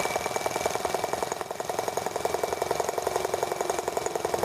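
A T26 engine idles and runs rich on fuel, with a steady, even rhythmic chugging pulse that stays close and constant throughout.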